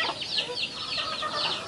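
Chickens clucking close by in a busy overlapping chatter of short, repeated clucks that continue throughout with no pauses.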